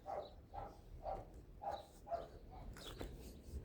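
Several dogs bark outdoors around a rural garden plot as weather turns toward rain: about six or seven evenly spaced barks, faint and distant, with light background noise.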